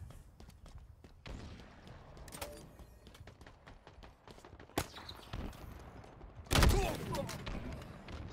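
A sniper rifle shot during a Halo Infinite capture-the-flag match: sharp cracks and scattered gunfire over quiet game ambience, with a louder burst of blasts near the end and someone talking faintly.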